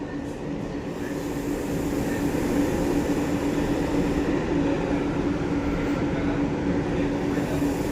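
Kolkata Metro Yellow Line train entering Jessore Road station, heard from inside as a loud continuous rumble with a steady whining tone.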